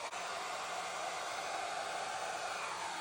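A steady, loud rush of air from a blower pushing gold paint across a Dutch pour acrylic painting, held constant for about three seconds with no speech.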